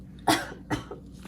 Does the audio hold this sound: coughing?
yes